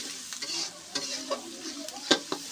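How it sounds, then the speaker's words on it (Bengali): Spices and salt being stir-fried in a pan, with a soft sizzle under irregular scraping strokes and a sharper clack of the utensil near the end. "লবণ, আর একটু লবণ দিয়ে দেব, দিয়ে একটু ভালো করে কষাই নেব"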